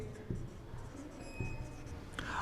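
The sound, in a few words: writing on a board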